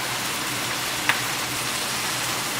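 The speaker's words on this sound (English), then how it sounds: "dump in your onion, shallot, soy sauce, palm sugar," Onion, shallot, soy sauce and palm sugar land in a hot pan, giving a steady, even sizzle throughout with a single brief tap partway, no voices.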